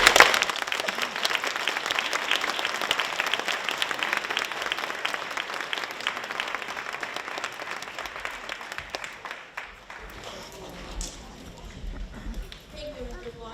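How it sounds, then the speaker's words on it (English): A school audience at a Veterans Day program, many of them children, gives a big round of applause that gradually thins into scattered claps, shuffling and faint chatter. "give yourself a huge round of applause"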